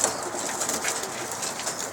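A pigeon coos softly and steadily over a brief moment, faint against a hissy background.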